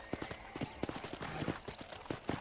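Horse hooves clip-clop steadily in the Red Dead Redemption video game, a brisk close rhythm of hoofbeats with faint game sounds underneath.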